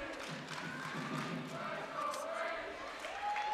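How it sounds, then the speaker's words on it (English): Crowd cheering in a gym at a high school girls' volleyball match between Cherry Creek and Smoky Hill, a broad steady roar with scattered shouts and thuds, talk mixed in throughout. "The crowd cheers for Brandy Montoya."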